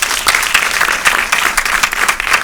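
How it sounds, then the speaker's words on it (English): Audience applause in a hall at an event honouring a First Lady, a loud, sustained burst of many hands clapping without a break. "Please give another round of applause."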